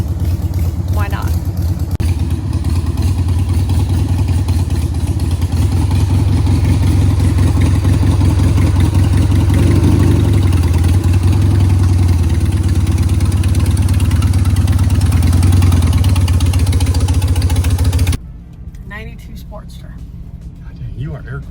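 An air-cooled Harley-Davidson motorcycle engine idling nearby, a loud, low, steady rumble with uneven pulsing that cuts off near the end, leaving quieter background, with talk faintly over it.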